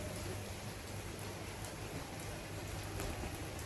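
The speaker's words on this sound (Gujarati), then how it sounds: "મસ્ત વરસાદ આવે છે બાકી જોરદાર" Steady, dense rain pours down, a continuous hiss of drops striking surfaces with no voices present.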